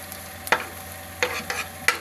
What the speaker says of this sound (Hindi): प्याज को हल्का ब्राउन कर लेंगे।